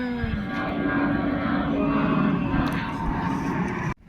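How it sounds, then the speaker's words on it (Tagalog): A steady, loud roar of an airplane engine passes overhead and fills the air, then cuts off abruptly at the end. "Tulad ng isang ibon, eroplano'y lumilipad."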